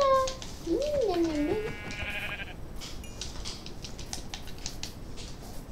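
A Minecraft sheep bleats once, a wavering call up close, followed by softer game clicks and pattering over a steady background hiss; a voice speaks briefly.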